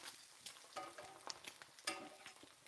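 Eggs frying in overheated grease for breakfast, crackling and spitting in small irregular pops over a soft continuous sizzle, close but quiet, with no talking.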